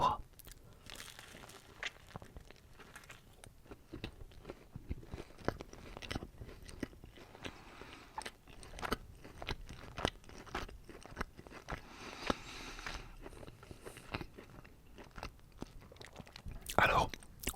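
Close, crisp chewing and crunching of a mini cheeseburger with thick beef patty, soft wet bites and crinkling of wrapper, recorded intimately and quietly with occasional louder bites near the end.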